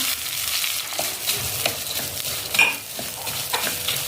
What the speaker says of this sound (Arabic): هنايا عندنا شويه تاع زيت، نزيدو لهم شويه زبده، نرميو في الدويده